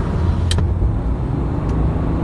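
A six-cylinder car with known problems idles nearby with a steady, deep rumble and a low whooshing air noise, continuous and fairly loud, with a couple of faint high ticks.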